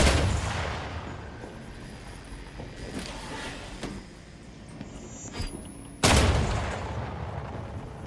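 Mines blowing up in the video game The Outer Worlds 2: a few sharp explosive bursts over a low rumbling game backdrop, the last blast hitting hardest and then rolling off into a lingering roar.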